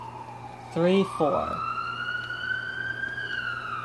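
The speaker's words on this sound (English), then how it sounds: "That's supposed to be Siren Head making those noises," Siren Head siren wail in the video game Dreams, a sustained rising and falling siren tone running throughout, with a brief spoken phrase over it early on.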